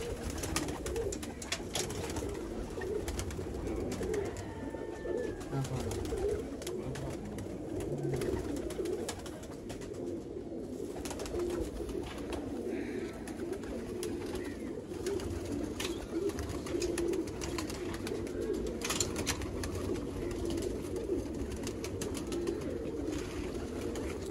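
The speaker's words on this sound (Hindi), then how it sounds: "ये देखें जी बॉर्डर वाले लाल आंख वाले कबूतर दोस्तों।" Red-eyed pigeons from a border-area flock near Sialkot coo softly and steadily in low repeated murmurs, overlapping one another against a constant background hum.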